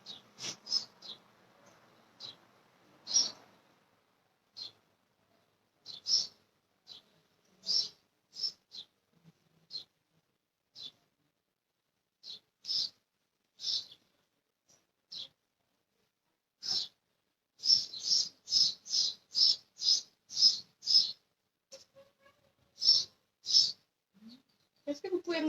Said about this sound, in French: Est-ce que vous pouvez me dire en commentaire si les bruits des oiseaux sont désagréables ou pas?